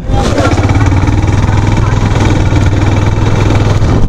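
A motorcycle engine runs close and loud, idling with a steady, throbbing low rumble that continues without a break.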